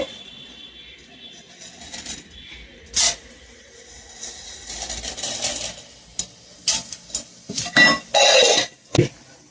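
Soft crackle of oil at first, then sharp bursts of sputtering and metallic clinks as tempering spices and dried red chillies hit the hot pan, growing louder toward the end.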